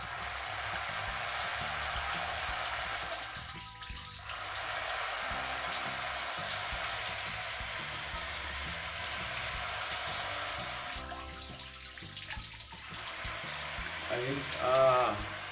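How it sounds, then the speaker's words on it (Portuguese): Water runs from an electric shower fed by a homemade solar water heater, a steady hissing spray that continues evenly, faint and unbroken. "E aqui eu consigo ligar o meu chuveiro elétrico."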